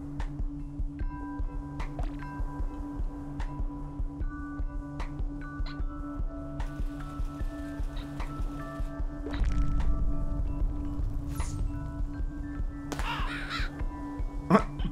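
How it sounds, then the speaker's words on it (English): Crows caw in the video game Donut County, several short harsh calls scattered over a steady hum of game ambience, moderately near, with a soft rustling burst midway and no talking. "Oh no, I'm just freaking out those birds over there."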